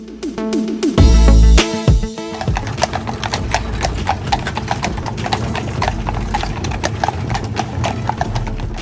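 Horse-drawn carriage in Colonial Williamsburg, with loud, steady clip-clopping hooves on the street close by, preceded by a brief clatter and joined by a faint whinny.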